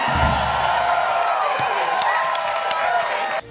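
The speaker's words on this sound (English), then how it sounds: "everybody, round of applause" A crowd cheers and whoops loudly with scattered clapping, a dense roar of voices that cuts off abruptly at the end.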